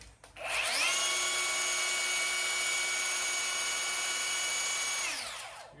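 A Ryobi 18V brushless belt sander spins up, runs at a steady high whine for several seconds and then winds down, close and loud.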